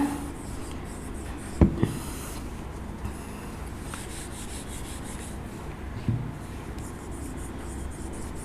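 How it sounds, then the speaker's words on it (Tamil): Pen scratching across paper as English example sentences are written out by hand, a continuous soft rubbing near the mic with a few small taps and knocks, no voices. "இப்போ இதுக்கு நான் எக்ஸாம்பிள் எழுதுகிறேன்"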